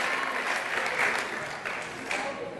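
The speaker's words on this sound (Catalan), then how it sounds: "aplaudiment pel Pau." Studio audience applause at a Catalan spelling game show, a steady dense wash of clapping that holds for a few seconds at moderate level, without talk.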